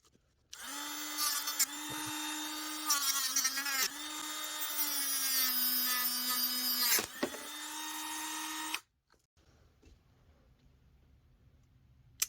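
Rotary tool or saw cutting through a battery tray on an RC car build, a loud, steady high-pitched whine lasting about eight seconds with slight dips as the cut progresses, then cutting off abruptly to near silence.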